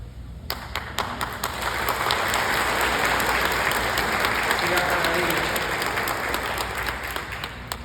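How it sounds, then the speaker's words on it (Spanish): An audience at a talk on the Immaculate Conception claps in a sustained, even burst of applause that builds quickly and holds at a moderate level throughout. "Gracias por los aplausos"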